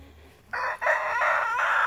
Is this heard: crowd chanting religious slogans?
no